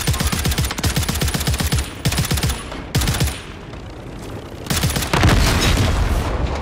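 Rapid gunfire in Call of Duty: Modern Warfare III, played in a Purgatory mode: close, loud bursts of automatic shots with booming impacts, broken by brief lulls and then a heavier burst near the end.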